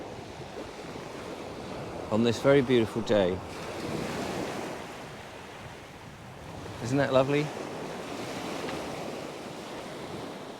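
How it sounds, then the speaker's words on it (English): Steady surf rolling and washing onto the shore at a seafront near Splash Point, looking toward Brighton, with wind noise across the mic; a person speaks briefly twice over the waves. "I'm going to go down to the seafront here and let's have a look at the waves"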